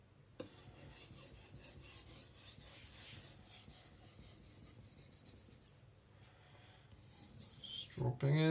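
A Zwilling petty knife is honed to a micro bevel with steady, close scraping strokes of steel on a sharpening surface. Faint breathing and handling noises sound near the end.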